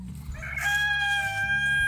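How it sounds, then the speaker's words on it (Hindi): A single rooster crows nearby, a rising then long drawn-out call over a low background rumble. "मुर्गे देखिए यहाँ पर बांग भी दे दी"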